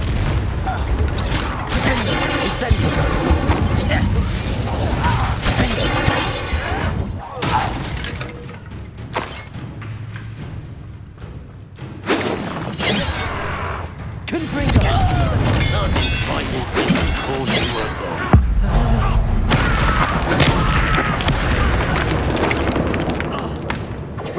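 Spell-casting combat in the video game Hogwarts Legacy on PS5: repeated heavy booms, blasts and shattering bursts of magic, loud and dense throughout, with voices over the fighting.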